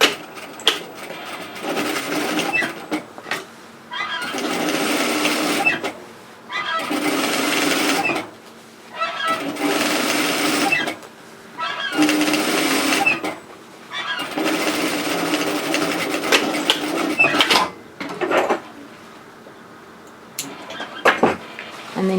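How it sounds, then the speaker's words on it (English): Bursts of a sewing machine edge stitching a large unlined reusable shopping tote, running steadily for a few seconds at a time with short pauses between runs, close and fairly loud. "we're going to edge stitch this into place"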